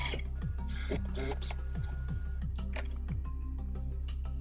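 A sewing machine stitches a pillow sham seam with a fast, steady mechanical whir and rhythmic ticking, close and continuous throughout.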